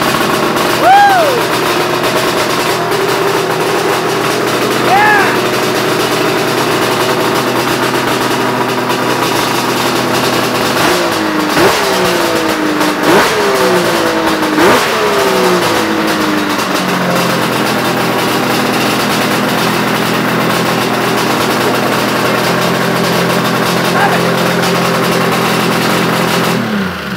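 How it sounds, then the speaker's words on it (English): A two-stroke triple snowmobile hill climber engine on a modified sled runs loud and close throughout, with a rough, crackling idle and several sharp revs that rise and fall in the middle, heard alone with no talking. "great thing with this motor and all the years I've had it, it starts usually on the first pull. It's loud, it's proud."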